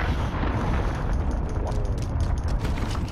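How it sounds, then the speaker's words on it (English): A cruise missile explosion in Call of Duty: Modern Warfare, a loud, sustained rumbling blast with a dense roaring tail that fills the whole stretch, with no voices over it. "Enemy cruise missile incoming."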